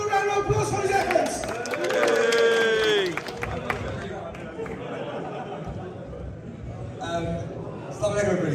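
Round of applause from an audience at an association election results event, loud crowd clapping and cheering mixed with chatter and a voice over the top, fading to a murmur before a short renewed burst.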